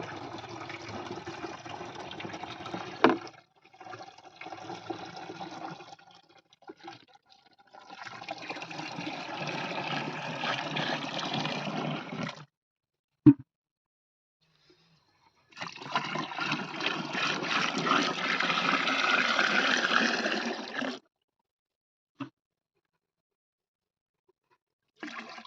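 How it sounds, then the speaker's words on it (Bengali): Pesticide is poured into a drum holding 15 litres of water for spraying cucumber plants, heard as several rushing, splashing bursts of liquid separated by short pauses. "আর 15 লিটার জলে ওষুধটা এখন ওষুধটা ঢেলে নিচ্ছি ড্রামে।"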